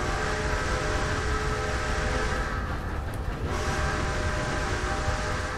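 A train in the Red Dead Online video game rolls along the rails with a steady, loud rumble and a continuous rattling clatter.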